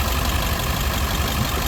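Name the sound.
International 4700 T444e semi-tractor engine revving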